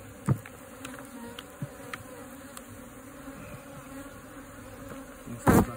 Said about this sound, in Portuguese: vai tocar essas abelhas de forma que elas saiam